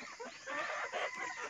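Backyard chickens at a small rural poultry farm in Leyte cluck in busy overlapping bursts, close and moderately loud, with no one talking.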